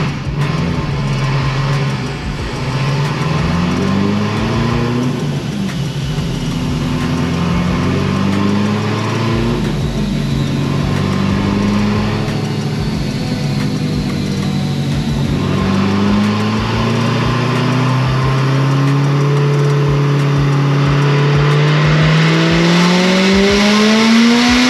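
Supercharged LT4 V8 with a 2650 blower revving hard, its pitch climbing and falling through repeated sweeps with a whining tone over a loud, continuous engine roar, no voices.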